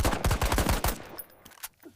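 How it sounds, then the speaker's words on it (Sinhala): Rapid bursts of automatic gunfire in the video game IGI 2, loud and close, rattling for about a second before fading into scattered shots and quieter noise. "වෙඩි තියනවා"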